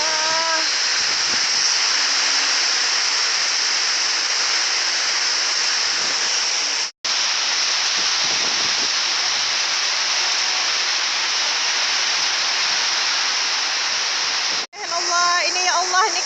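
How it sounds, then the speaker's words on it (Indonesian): A hailstorm strikes on a road in Natulintang as a loud, unbroken roar of pelting ice that cuts out briefly twice, and a voice comes in at the very end. "belum sampai rumah, udah terkena hujan es di tengah jalan."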